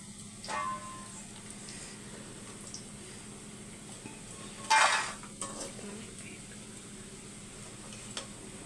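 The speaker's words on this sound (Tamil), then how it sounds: "மெல்மேக்கர் நல்லா பொரிஞ்சிருச்சு இப்போ எடுத்துடலாம்" Soya chunks (meal maker) deep-frying in oil make a quiet, steady bubbling hiss, broken by one sharp metallic clatter of a utensil on the pan near the middle and a few softer knocks. No one speaks.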